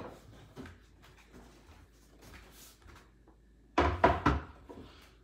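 A kitchen cabinet door being refitted during cabinet painting: faint handling rustles, then a cluster of loud, close wooden thunks and knocks toward the end.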